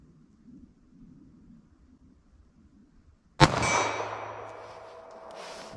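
A single shot from a 2-inch barrel .38 Special revolver fired single action cracks loudly after a stretch of near silence, followed by a long ringing clang that slowly fades.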